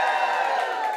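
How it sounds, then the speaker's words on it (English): An audience at a live podcast recording cheers and whoops, a brief, loud burst of many voices filling the room. "Just give us a cheer if you listen to The Guilty Feminist."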